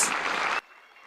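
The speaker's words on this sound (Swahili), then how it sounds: "Haya basi, tujaze makofi tafadhali kwa rais." A crowd applauds at a State House reception in Nairobi where the president hosts AFC Leopards football club; a dense burst of clapping lasts about half a second, then cuts off to a faint room hum.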